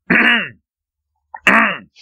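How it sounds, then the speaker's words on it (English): Two loud, close throat-clearing rasps, each about half a second long, separated by roughly a second of silence. "Let me clear my throat"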